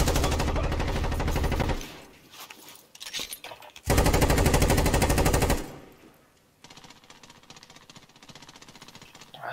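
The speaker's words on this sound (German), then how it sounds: "Irgendjemand schießt." Automatic weapon fire in a Call of Duty multiplayer match: two loud, dense bursts of rapid gunfire, each lasting a couple of seconds, with quieter scattered shots and game noise between them.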